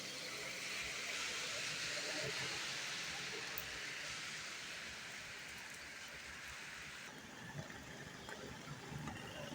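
Steady moderate rain falls in Intramuros, a continuous broadband hiss of drops hitting wet pavement and surfaces, even and unbroken throughout with no voices.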